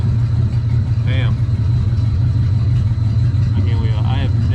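Steady low idle from a 1938 Dodge engine brought back to life after four decades of sitting, running close and constant while someone talks briefly over it twice.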